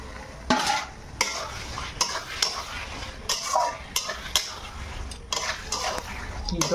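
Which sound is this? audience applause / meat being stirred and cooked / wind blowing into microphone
meat being stirred and cooked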